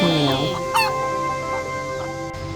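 Chickens cluck and call in a Korean countryside yard in summer, a few close squawks over a steady outdoor background with no talking.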